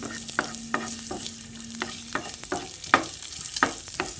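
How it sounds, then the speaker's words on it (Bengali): Cashews, raisins and a piece of ginger frying in hot oil: a continuous crackling sizzle with bursts of spattering and stirring clinks, moderately close, no speech. "তারপর এটাকে একটু হালকা করে ভেজে নিচ্ছি"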